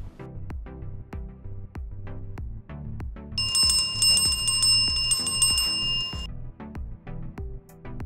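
A bright notification bell sound effect rings out in the middle, a sustained, shimmering metallic ding that rings for about three seconds over a steady rhythmic musical backing, with no talking.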